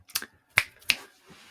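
Three or four sharp finger snaps ring out close and dry with short gaps between them in an otherwise quiet room, with no talking.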